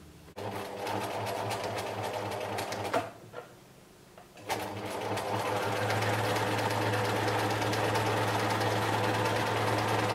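A sewing machine hems boxer shorts close by with a fast rhythmic stitching rattle, pauses briefly, then starts up again and keeps stitching steadily.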